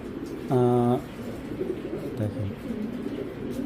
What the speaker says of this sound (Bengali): কবুতরটা দেখেন অরিজিনাল ব্ল্যাক চেকার